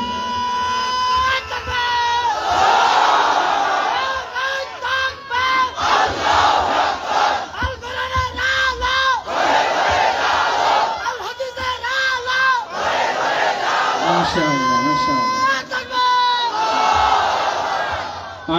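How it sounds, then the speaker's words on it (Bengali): A large crowd at an evening cultural event in Pirganj, Thakurgaon chants the takbir in loud, full-throated unison. The shouted calls repeat in waves for the whole stretch. "একজন একটু তাকবীর দিতে পারবেন?"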